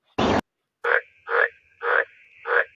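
AI-generated toad croaking: after a short burst of noise, four evenly spaced, loud, nasal croaks ring out one after another, close and clear.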